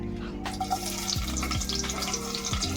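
Chopped onions fry in hot oil in a pan, giving a steady close sizzle and crackle with a faint background hum, unbroken throughout.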